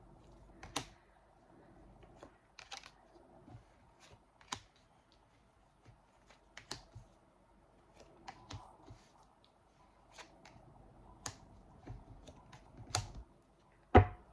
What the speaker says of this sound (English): I'm going to go ahead and lay out all of the cards